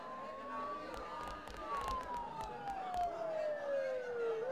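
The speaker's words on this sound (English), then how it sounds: "Don't those sirens sound really close?" Video game sirens in Persona 4 wail, sweeping slowly up and down at a distance, fairly faint, with scattered clatter and background noise around them.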